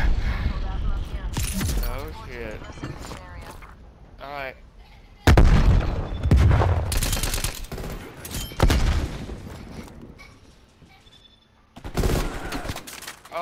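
Napalm strike in the video game Call of Duty Black Ops Cold War, heavy booming blasts and crackling fire bursts in loud waves amid gunfire, with excited voices shouting over the chaos.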